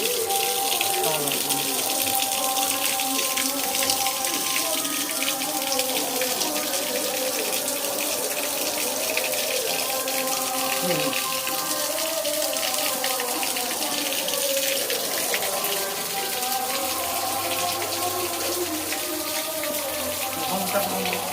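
Water runs steadily from a tap on a water tank, a constant splashing gush that continues throughout, with voices faintly in the background.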